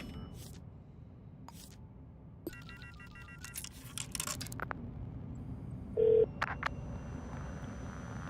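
A payphone in the Shadows of Doubt video game gives several short dialing tones and electronic beeps in quick sequence over a quiet, low background hum.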